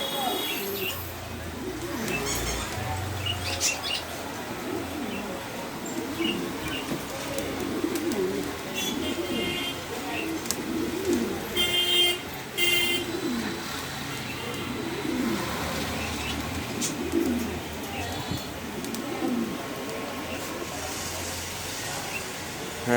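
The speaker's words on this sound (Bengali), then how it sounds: "এখানে এক পেয়ার লাল মুম্বাই কবুতর আছে" A pair of red Mumbai pigeons, a breeding male and female, coo repeatedly in soft throaty calls at close range over a constant background hum, with occasional sharper chirps and clicks.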